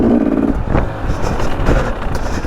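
A KTM 300 dirt bike rides a fast, flowing single-track trail in Utah, its engine a loud, steady, close drone that runs unbroken through the whole stretch.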